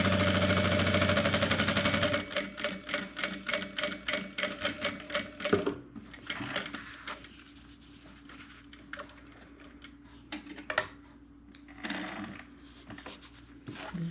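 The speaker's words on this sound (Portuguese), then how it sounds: "Vou passar uma costura de um pé de máquina, fazendo retrocesso no início e no final." A sewing machine runs a seam with a backstitch at the start and end, beginning with a fast steady rattle, then breaking into quicker bursts of stitching with short pauses, close and clear, with no talking.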